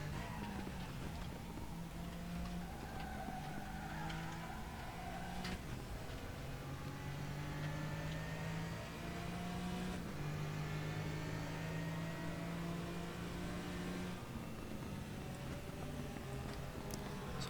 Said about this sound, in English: that is the Porsche 718 Cayman GT4